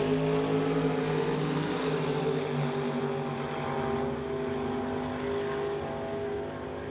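Drag race cars, including a '55 Bel Air, run down the strip at a Doorwarz drag racing event, giving a continuous, fairly distant engine drone that fades slightly toward the end, with no talk.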